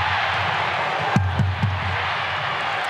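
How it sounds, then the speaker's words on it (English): A big stadium crowd roars in a steady, dense wash of cheering at a Canberra Raiders versus Brisbane Broncos NRL rugby league match, with a few low thumps cutting through the sustained noise. "Crowd trying to get their side home"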